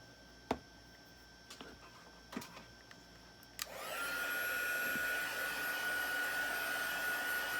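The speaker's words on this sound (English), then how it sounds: "I'm going to dry this." After a few faint taps and clicks, a hair dryer switches on abruptly to dry a chalk transfer project, then runs as a steady, moderately loud whirring hum with a high whine until the end.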